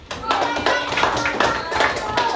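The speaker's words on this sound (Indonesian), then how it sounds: "Tepuk tangan untuk kelompok 4." A classroom group of students claps for a presenting group during a teacher-training lesson: dense, steady applause lasting the whole stretch, close and fairly loud.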